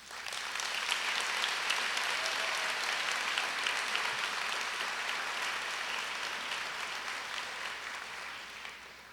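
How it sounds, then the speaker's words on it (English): A crowd at a high school graduation ceremony gives a steady round of applause, a broad wash of many hands clapping that sounds somewhat distant and slowly fades toward the end. "I think that deserves a round of applause"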